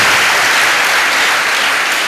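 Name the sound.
joyful applause for God in church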